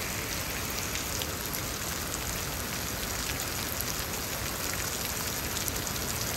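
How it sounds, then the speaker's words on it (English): Steady rain pouring down during a storm in Houston, Texas, with hail mixed in, a dense continuous hiss and patter of drops striking surfaces, loud and even throughout with no voices. "Is that a piece of hail? Yeah, it's hailing."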